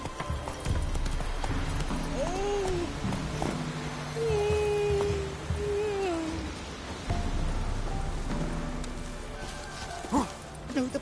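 Galloping horse hooves in The Witcher 3: Wild Hunt, a steady rapid clip-clop close by, with a few spoken lines and gliding tonal calls layered over it.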